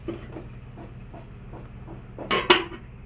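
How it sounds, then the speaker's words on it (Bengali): Potato curry stirred in a metal pot, then the lid set down with two sharp, close clanks near the end after quiet scraping. "জলটা ঢেলে ও ভালো করে নাড়িয়ে নেবে চারদিকটা নাড়িয়ে এবারও ঢাকা দিয়ে দেবে"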